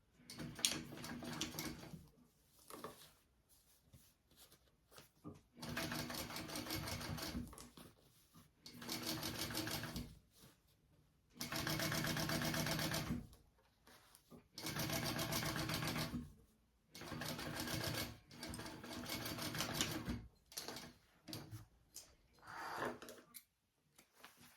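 A sewing machine top stitches a crossbody bag seam in several distinct runs of steady, loud motor whir, each a few seconds long and separated by short quiet gaps, close up with no talking.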